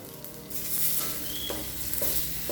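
Onions and other ingredients sauté in a hot pan for a potato pepper fry, a steady close sizzle with short bursts of stirring scrapes and no talking.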